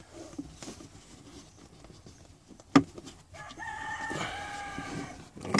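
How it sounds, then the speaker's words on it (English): A rooster crows once, a loud stretched call near the end, after a sharp knock and quieter rustling, outdoors during a car repair. "Excuse them freaking roosters and all that in the background"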